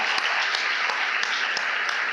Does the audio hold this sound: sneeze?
no